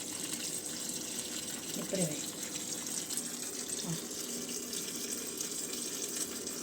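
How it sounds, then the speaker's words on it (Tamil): Water pouring into the drum of a Realme top-load automatic washing machine, a steady rushing hiss of filling water that runs continuously, with a brief spoken word partway through. "ப்ளே பண்ண உடனே தான் வாட்டர் வரும்."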